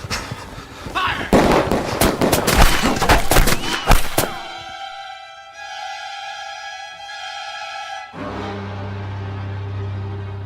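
A firing-squad volley in a radio drama: a dense, loud burst of overlapping gunshots crackles for about four seconds, then cuts off into sustained tones.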